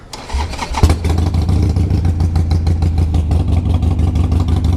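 A 2007 Harley-Davidson 883R motorcycle with 32,000 miles cranks briefly, then fires up and settles into a loud, close, steady, throbbing idle.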